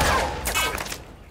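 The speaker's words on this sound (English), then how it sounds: "Line up the pistol shots." Pistol shots in a video game arrive as a quick close burst of loud cracks with ringing echoes that fade out within about a second.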